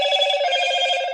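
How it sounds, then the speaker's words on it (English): A mobile phone rings indoors with a steady electronic ringtone, a sustained bright tone holding throughout at fairly close range and moderate loudness, with no talk over it. "That's my phone."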